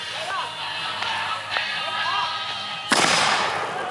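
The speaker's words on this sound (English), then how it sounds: "That's the cannon, boy." A neon mortar firework launches with a sharp cannon-like boom near the end, after several seconds of outdoor crowd chatter and background noise.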